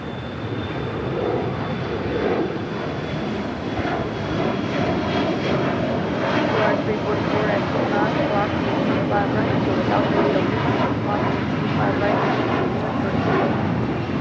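Volaris Airbus A321neo, five years old, arriving at LAX on flight from Guadalajara, a steady broad engine roar that stays loud throughout with speech faintly present underneath.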